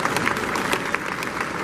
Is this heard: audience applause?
yes